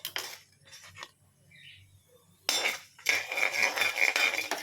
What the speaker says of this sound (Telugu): ఇప్పుడు మనం ఈ ముక్కల్ని తీసి ఇందులో వేసేద్దాం